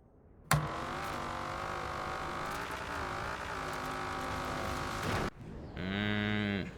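A person imitates a cow with a loud, sustained moo lasting about five seconds, followed by a second shorter, rising moo-like call, over faint background noise from a racing game.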